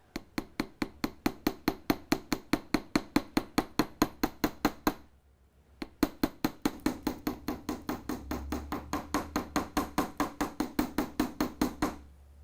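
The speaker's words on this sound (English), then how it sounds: "my domed chasing hammer. And I'm just going to gently start hammering this piece" Steady metal hammering with a domed chasing hammer on a bench block, dozens of sharp ringing taps in an even rhythm, pausing briefly midway before resuming at the same pace.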